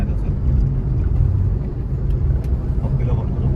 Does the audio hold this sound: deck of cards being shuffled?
no